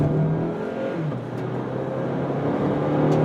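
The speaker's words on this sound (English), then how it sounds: "we're shifted into sports mode, and we're going to pull off and give this thing a little bit of acceleration" A 2011 Acura RDX SH-AWD turbo SUV accelerates in sport mode, its engine a steady, rising drone heard from inside the cabin with no speech.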